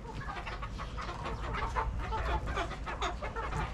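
Indian game roosters cluck softly in a farmyard, a quiet, continuous scatter of short clucks heard from a modest distance without any talking.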